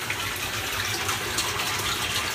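Water gravity-feeding down through pipes into the sump tank of an aquaponics fish tank setup, a steady close rushing gush with no pauses.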